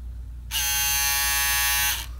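Bevel foil electric shaver switched back on after its travel lock is released, producing a steady, close, high-pitched buzz that runs for about a second and a half and then stops, with no talking.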